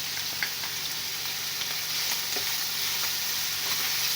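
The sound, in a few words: chicken frying with tikka masala, ginger and garlic powder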